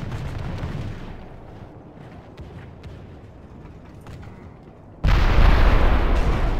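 Battlefield gunfire and artillery in Medieval II Total War with the For King or Country mod, a rumbling mass of distant shots that swells into a loud, dense roar of firing near the end.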